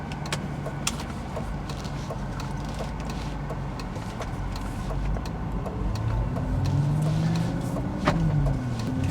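An Audi RS4, running with its engine management lights on, pulls away and drives off. Its engine is a steady low hum that rises gently partway through, with a few faint clicks and knocks inside the car.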